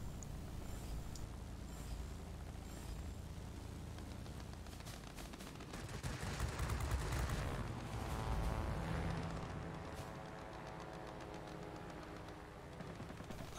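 Rapid bursts from a 20mm autocannon and two 7.92mm machine guns on a PZL P.38 Wilk heavy fighter in World of Warplanes, with a steady rattle of fire over constant engine drone that swells in the middle.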